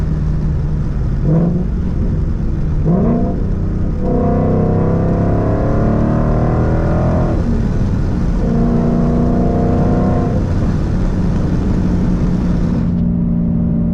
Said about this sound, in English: Roush exhaust, if you just open the window up a little bit.